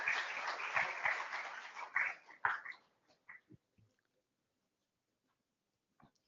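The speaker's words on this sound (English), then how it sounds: "Please, huge round of applause." A crowd at an innovation challenge outreach event in Nagpur applauds steadily for a few seconds, then the clapping thins out into a handful of scattered last claps before fading to quiet.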